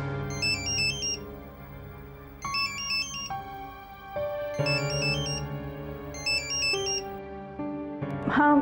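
A telephone rings with an electronic ringtone in repeated bursts of a high warbling tone over a melodic background tune, heard clearly and close.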